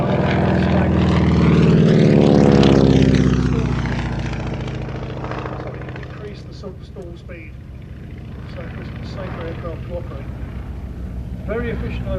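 A propeller aircraft at the Shuttleworth air show sweeps past with a loud, rising-then-falling engine drone and Doppler shift, then recedes into a fainter hum while a commentator talks over it.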